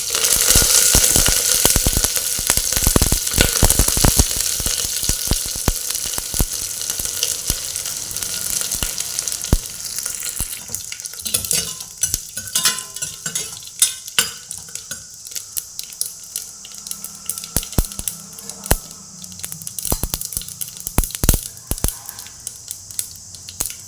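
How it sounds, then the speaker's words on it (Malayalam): Urad dal, mustard seeds, chillies and curry leaves sizzling in hot oil for a beetroot masala curry: a loud hiss at first that settles into crackling and scattered pops, with occasional clinks of a utensil against the pan and no talk. "ഉഴുന്നൊന്ന് ചൂടായി അതിലേക്ക് കടുക് മുളക് പിന്നെ ഇരുത്തി കറിവേപ്പില"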